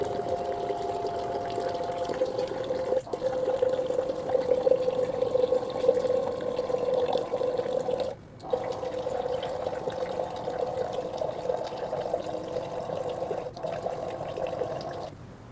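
A homemade electric water-jug pump runs steadily for about fifteen seconds, giving a continuous humming whir with splashing water flow and a brief dip in the middle, with no talking.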